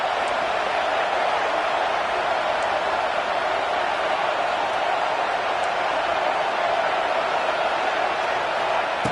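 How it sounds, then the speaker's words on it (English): A stadium crowd in a college football video game roars as a dense, steady wash of noise that holds at one loud level throughout. "listen to this crowd noise. This stadium is vibrating."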